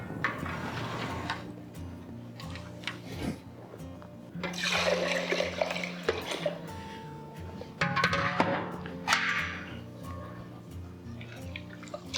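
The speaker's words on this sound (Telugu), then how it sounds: "రెండవసారి మంచినీళ్ళు పోసి కడుగుదాం." Rice is rinsed a second time in water, with close sloshing, dripping and swishing that rise and fall in bursts, and a voice talks underneath.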